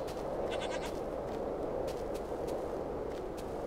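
A Minecraft goat gives several short, nasal bleats in quick succession over a low background hiss, fairly close and clear, with no voices.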